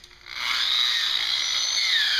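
Natural stone being polished with a 3000 grit pad on a power tool, a steady high whine that spins up quickly and holds at constant level, with no talk.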